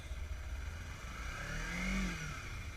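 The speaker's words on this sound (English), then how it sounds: "as I'm releasing the clutch, I'm giving it throttle like this." A Kawasaki Ninja 300 engine rises in a faint, short rev as its clutch is let out in first gear, with the bike at a low idle before and after.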